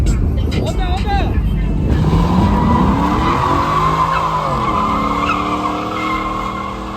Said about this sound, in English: we out here making people do burnouts